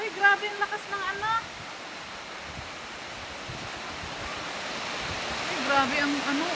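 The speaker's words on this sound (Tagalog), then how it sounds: "Oh, ang lakas ng hangin guys." Strong wind roars in a steady broadband rush during a heavy rain storm, with a voice speaking briefly in Filipino at the start and again near the end.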